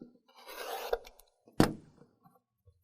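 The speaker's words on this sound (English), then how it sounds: "you're going to use your rotary cutter" A rotary cutter slices corner to corner through two layers of quilting fabric along a ruler, giving a soft rasping scrape followed by a sharper, brief cutting stroke, close and fairly quiet with no talk.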